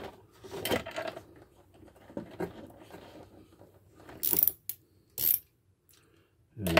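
Seastar helm mounting bolts are tightened with a wrench, giving a few soft clicks and two or three sharp ratcheting bursts near the end against a quiet background.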